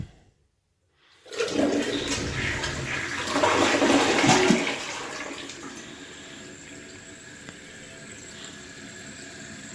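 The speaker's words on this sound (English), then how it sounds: "I'm going to give it the first flush." A newly installed toilet with a piston-type flush valve gives its first flush: a loud, close rush of water that swells for a few seconds, then settles into a steady refilling hiss.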